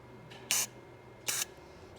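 Two short, sharp hisses of aerosol cleaner sprayed into the carburetor of a Cub Cadet 1450 tractor, evenly spaced, close by against a quiet background.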